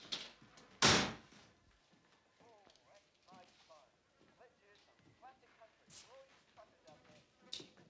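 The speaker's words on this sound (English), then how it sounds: "Hurry up and close the door, love." A door is shut with one loud thud near the start in a rural shop in an Australian comedy film. Horse hooves clip-clop softly in the background and people talk afterwards.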